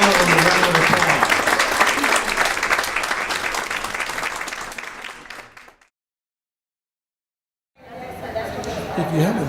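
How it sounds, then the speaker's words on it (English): Loud audience applause for award winners at a high school entertainment show, dense clapping with crowd chatter that fades out, a short silence, then clapping rises again. "Let's give all of them a round of applause."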